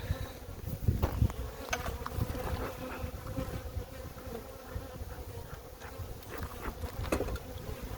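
Honey bees buzzing around a very old wooden beehive, a dense, steady swarm drone close by with occasional individual bees flying past, continuous throughout.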